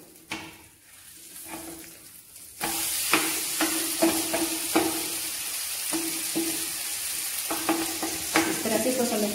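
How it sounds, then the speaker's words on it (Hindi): A vegetable pudla, a gram flour pancake, sizzles on a hot pan, quiet at first then jumping to a loud steady hiss with repeated spatula scrapes and taps. "इसे इस तरह से पलट लेंगे, क्योंकि मैंने सब्जियां डाली है तो इसे हमें भी पकाना है।"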